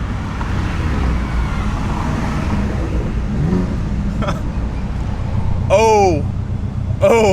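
Loud modified cars cruising past at a cars and coffee meet, engines droning and revving with sharp exhaust crackles and pops near the end, amid crowd chatter and talking.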